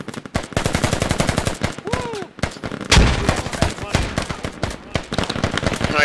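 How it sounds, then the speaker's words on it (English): Rapid bursts of automatic rifle and machine-gun fire crackle through a tense Squad firefight, mixing close and distant shots, with someone talking over the gunfire. "Shots fired, militia fired first"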